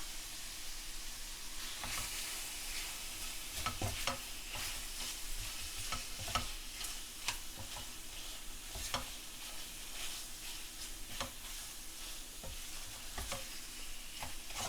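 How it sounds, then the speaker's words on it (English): Continuous sizzle of chicken frying in oil and spices in a pot with regular scraping stir strokes throughout, moderately close and unaccompanied by speech. "Carry on frying for a minute to infuse the flavours."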